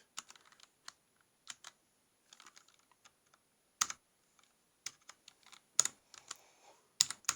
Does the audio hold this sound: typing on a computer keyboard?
yes